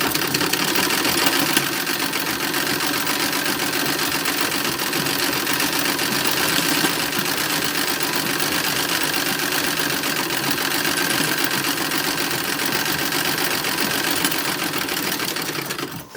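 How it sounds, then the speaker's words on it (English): Sewing machine stitching the back pieces of a 1910s–1920s style toddler romper together with felled seams, running steadily and continuously at close range for the whole stretch, an even whirring drone with no pauses and no talk. "we're going to sew the back pieces together"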